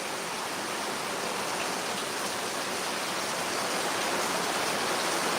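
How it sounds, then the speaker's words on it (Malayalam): Heavy monsoon rain pours down in a dense, unbroken hiss, loud and even throughout with no voices. "ഇതാണ് ഇന്നത്തെ മഴൻ്റെ അവസ്ഥ നല്ല മഴ"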